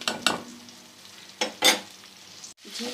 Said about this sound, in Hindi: यहाँ पर एक खाने का चम्मच लहसुन अदरक का पेस्ट मैं शामिल कर रही हूँ ठीक है इसको हम कुछ देर के लिए फ्राई कर लेते हैं